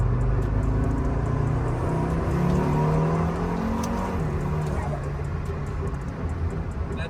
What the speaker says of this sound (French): La décompression du turbo, elle est impressionnante.